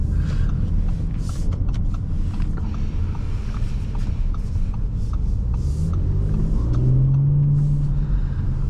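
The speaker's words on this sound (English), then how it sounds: "the sound of this engine is just 10 out of 10" A 2024 Audi S5 Sportback's 3.0-litre turbo V6 rumbling steadily from inside the cabin, with a deep continuous drone and a rising note as it revs near the end.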